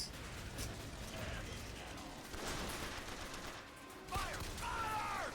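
Gunfire in BioShock Infinite, scattered distant shots and mechanical clatter amid quiet battle ambience, with voices calling out between bursts.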